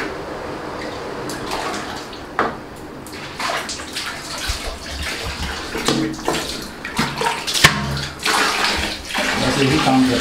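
A household tap pours water into a bucket for a bath, the stream gurgling loudly and close, broken by irregular splashes and knocks as the water is stirred around.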